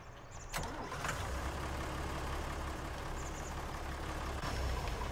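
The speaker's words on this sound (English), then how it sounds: "I'm going to take the other tractor down the hill." A farm tractor engine in Farming Simulator 19 runs as a continuous low rumbling drone for the whole stretch, with a brief surge near the start and faint mechanical clicks on top.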